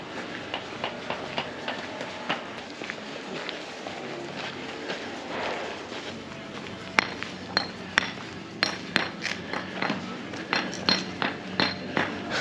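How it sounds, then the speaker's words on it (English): Cobblestone bricks being laid by hand with a hammer on a new street in Bansko's old town, Bulgaria. Sharp metallic taps ring out at a distance, settling into a regular rhythm of hits over street ambience. "They lay the bricks by hand for the roads, one by one, with a hammer."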